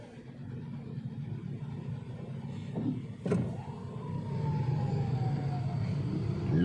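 Heavy Monday road traffic in Naga City, a continuous low rumble of idling and creeping vehicles with a sharp clunk midway and a rising whine near the end.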